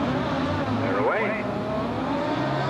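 Grass track race cars at a Maidstone, England meeting in 1988 roar off the line together at the start of the B final, a dense engine din with a rising whine under a commentator's voice.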